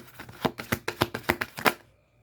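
Tarot cards being handled and drawn, a steady run of about ten crisp, evenly spaced slaps and flicks close up, ending in quiet.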